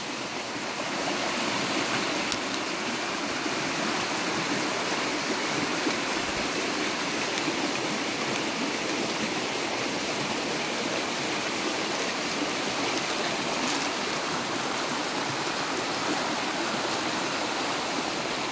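A forest stream flows steadily past a rural property, a continuous broadband wash of rushing water heard close and alone for the whole stretch.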